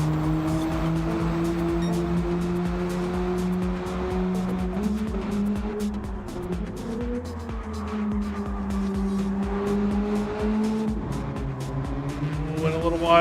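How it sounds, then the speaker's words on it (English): Race car in the Gran Turismo 7 video game, its engine droning steadily and loudly throughout with rising and falling revs through braking and acceleration out of a fast right-hand corner, with faint tire noise underneath. "Cuts that corner, gets in, on the brakes. Deep into the corner, accelerates out"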